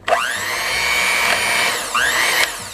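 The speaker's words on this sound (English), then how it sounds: "Beat these on low until we get it well incorporated with the chocolate, the butter, the vanilla," Electric hand beaters whirring through chocolate, butter, vanilla and powdered sugar for Swiss-style brownies, a loud motor whine that spins up, holds steady, briefly cuts and restarts, close and with no talk.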